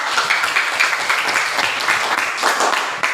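A school class applauding together, a dense steady burst of many hands clapping at close range, lasting the whole stretch with faint voices mixed in.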